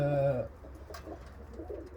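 A racing pigeon from the Istanbul pigeon federation coos inside a dry coop, a low throaty call near and clear at the start, then quieter bird sounds and faint background noise.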